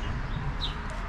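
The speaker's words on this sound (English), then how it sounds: "it's chicken" A chicken in an Amish village farmyard gives a brief soft cluck or two, close by over a low outdoor background, with no talking.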